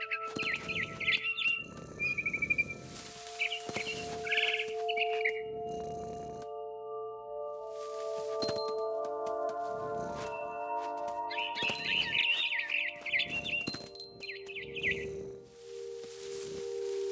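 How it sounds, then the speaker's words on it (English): Repeated chirps from a barn swallow inside the game What Remains of Edith Finch, short high calls in bursts over a soft sustained tonal music bed, fairly close and clear. "Then I heard chirping outside my window. It was a barn swallow going back to her nest."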